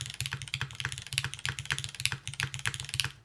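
Rapid, steady typing on a Neo80 Cu mechanical keyboard, each keystroke a close, crisp click with a deep, thocky low end, continuing without pause and with no voices.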